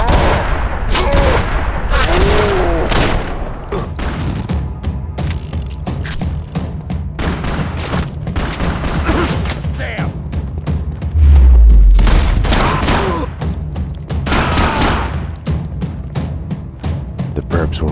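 Gunfire in the video game Max Payne 2, with rapid loud bursts of shots, heavy thuds and booms packed densely over the whole stretch. Game character voices shout in between the shots.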